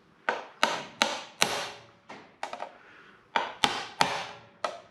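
A hammer strikes a chisel on a floor panel of a Vanguard vehicle build, giving about ten sharp metallic taps in uneven clusters, close and fairly loud with no talk.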